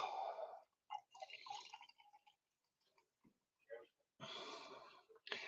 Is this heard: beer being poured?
yes